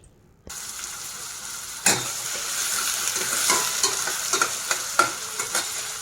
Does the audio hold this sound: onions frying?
yes